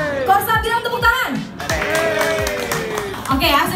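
An audience claps hands together on a spoken cue during a Ramadan ngabuburit gathering, with a short burst of clapping mixed with talking voices and a brief cheer.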